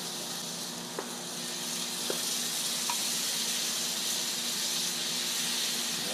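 Chicken wings fry in oil on an Arteflame insert fitted to a Weber grill, giving a loud, steady, close hiss and sizzle with a few faint pops and no talking.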